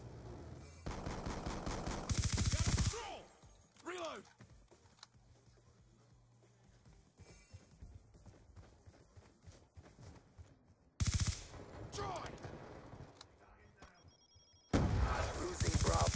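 Bursts of rapid automatic gunfire in Call of Duty Black Ops 2 multiplayer, loud clustered volleys separated by quieter stretches of game voice callouts and ambient effects.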